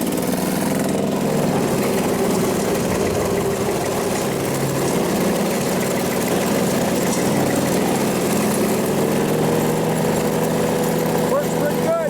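A Craftsman utility vehicle with a newly installed mower deck runs continuously while cutting grass, a loud, steady, close engine drone with rumbling low tones and a faint squeal near the end.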